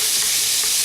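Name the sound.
ground beef browning in a pan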